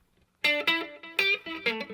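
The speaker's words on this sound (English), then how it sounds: "So now I'll add the reverb." Electric guitar notes played through a reverb pedal in a solo tone with basic effects, a few sustained, ringing phrases that wash out and linger after each note, clear and close.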